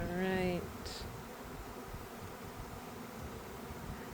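Honeybees from a package installation at the hives buzz in a soft, continuous outdoor drone, with a brief voice at the start and a faint rustle, the hum steady and fairly quiet.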